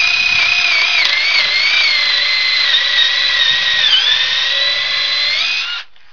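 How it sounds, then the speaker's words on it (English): A power drill bores a hole through picnic table wood, a steady loud high-pitched whine held for about six seconds, close by, before winding down abruptly at the end. "I'm going to bore and countersink these holes just like I did."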